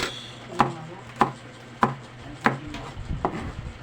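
Knife slicing Baguio green beans on a board gives five or six sharp, evenly spaced chops, close and clear, with a few softer cuts at the end.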